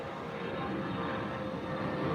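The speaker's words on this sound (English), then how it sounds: "American jet just took off from Chicago O'Hare Airport" An American jet taking off at Chicago O'Hare Airport on a distant runway gives a faint, steady engine roar with a broad rushing tone that rises slightly toward the end.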